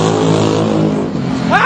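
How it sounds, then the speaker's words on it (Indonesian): A motorbike engine revs hard and close, a loud, sustained roar that rises in pitch toward the end. "Aku sangat benci motor seperti itu, sangat berisik."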